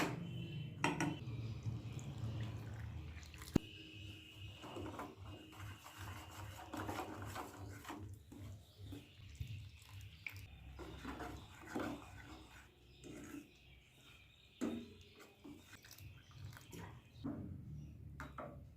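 A ladle stirs a thin flour-and-water batter in a bowl for patishapta, giving faint, irregular clinks and scrapes against the bowl with no talk.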